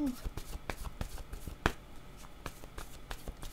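Tarot cards shuffled and drawn at a tarot reading, a steady patter of soft card flicks and slaps, close by, with one sharper snap partway through and a voice at the start.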